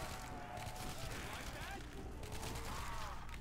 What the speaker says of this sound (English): I'm gonna shoot these guys in the head just to be on the safe side.